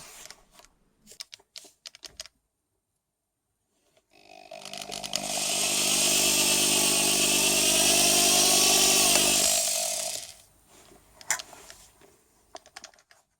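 A power tool whirs steadily for about six seconds on a rivet holding the turn indicator contact assembly of a Vespa PX scooter, ramping up and down with light tapping and handling noises before and after.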